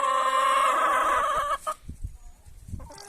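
Domestic hens cackle loudly and continuously at close range for about a second and a half, then fall quiet, leaving only faint scattered rustling and soft clucks.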